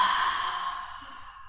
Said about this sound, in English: Take one more nice inhale. Nice full exhale.